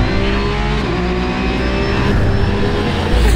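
Porsche endurance race car running a shakedown at Weissach, a loud continuous engine roar held at steady high revs, close and alone with no talking.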